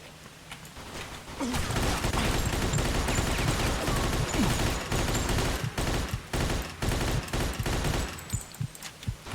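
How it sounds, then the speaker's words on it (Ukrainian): Tommy gun automatic fire in the Mafia 2 video game: loud, dense bursts of rapid shots that run almost continuously for several seconds after a brief quieter lead-in. "Гаразд, придеться Томіган використовувати."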